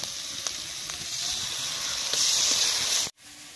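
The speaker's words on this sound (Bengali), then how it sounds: "নেড়ে চেড়ে দিয়ে দিচ্ছি বাদাম বাটাটা" Ground almond paste sizzles and hisses steadily in a hot pan as it is stirred, loud and close, with faint scrapes, before cutting off abruptly near the end.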